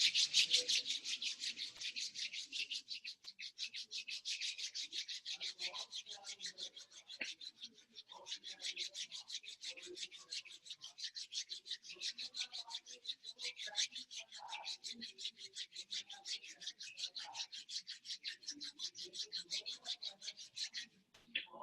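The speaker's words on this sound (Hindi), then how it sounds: "दोनों हाथ को रब कर लीजिए।" Both hands rubbed briskly together in a steady, continuous rasping swish for about twenty seconds, close and fairly quiet, with faint murmuring in the background.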